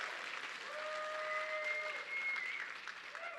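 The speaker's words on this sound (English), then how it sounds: "Give him a big round of applause." A live audience at a talk applauds steadily, a dense wash of many hands clapping at moderate distance with no speech over it.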